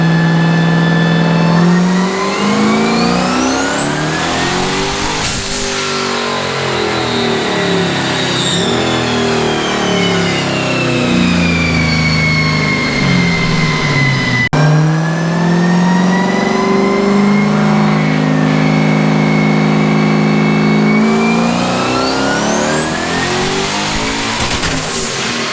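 A turbocharged LS-swapped BMW E36 pulls on a dyno in two long runs, the V8 climbing from a deep drone to a loud high wail before dropping off, close and powerful.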